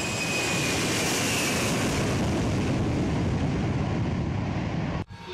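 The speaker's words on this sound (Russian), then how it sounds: "Самый зрелищный момент – показательный взлет Ила." Ilyushin Il aircraft making a demonstration takeoff at a rainy air show, a loud, broad jet roar that holds steady and then slowly fades.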